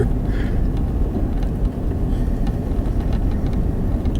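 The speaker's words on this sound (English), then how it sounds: "You see that car?" A car passes by outdoors, its engine a broad, steady low rumble that holds at a fairly loud level for several seconds with no voices over it.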